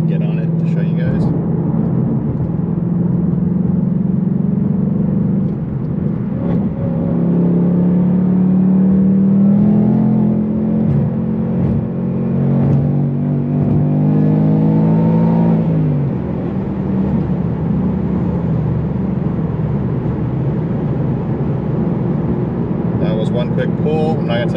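A 2021 Ford Mustang GT engine revs up and accelerates hard, its rising tone climbing through gears before easing off, heard from inside the cabin.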